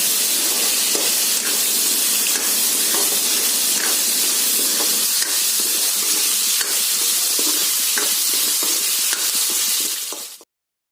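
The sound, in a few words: potatoes being stir-fried in a pan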